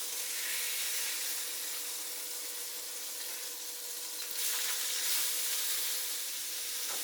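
Lamb burgers sizzle steadily in a hot pan just after being flipped, a continuous fairly quiet frying hiss with a brief swell midway and no talking.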